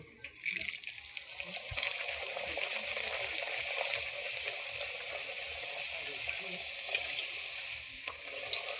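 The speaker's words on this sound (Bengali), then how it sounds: "এতে দিচ্ছি বেশ খানিকটা পরিমাণে সাদা তেল এটা গরম হয়ে গিয়েছে এবার আমি কচুরিগুলো এক এক করে এখানে দিয়ে দিচ্ছি" Methi kachori frying in hot white oil, a steady close sizzle with bubbling crackle that holds evenly throughout, with faint clinks beneath.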